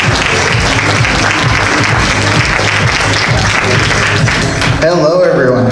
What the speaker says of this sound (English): Let's give a big round of applause to Mr. Alex Melen, ladies and gentlemen.